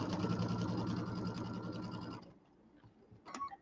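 A sewing machine runs a piecing stitch along a quarter-inch quilt seam, a fast steady mechanical whir for about two seconds, then stops, followed by a few soft clicks and handling sounds.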